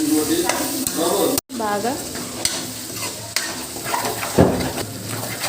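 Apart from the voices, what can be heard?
marinated prawns frying and stirred in oil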